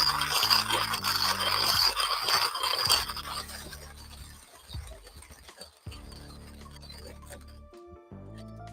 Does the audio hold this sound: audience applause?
no